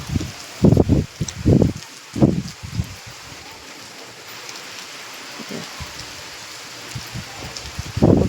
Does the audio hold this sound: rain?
yes